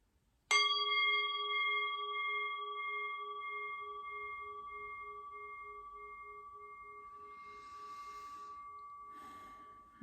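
A single meditation bell struck once, a clear bright ring that hangs and slowly fades over several seconds, with soft breathing or rustle near the end.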